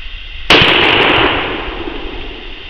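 A half-pound Sureshot exploding target detonates outdoors with a single sharp, very loud blast, followed by a long rumbling decay and echo fading over two seconds.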